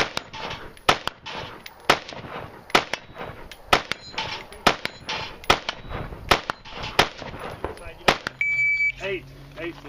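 Shotgun slugs fired at a shooting competition: a rapid string of loud, sharp, close reports in quick succession, followed by an electronic beep and voices near the end.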